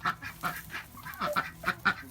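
Chickens grow noisy at feeding time in a desert camp, giving a quick run of sharp squawks and honking calls, fairly close and irregular, one after another without pause.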